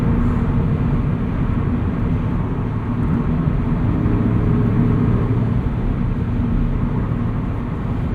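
Subaru BRZ with a catted UEL header and stock exhaust, heard from inside the cabin while cruising as a steady, loud engine drone and road rumble with no talking.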